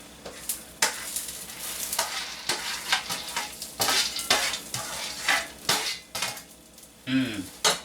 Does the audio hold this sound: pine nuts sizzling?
yes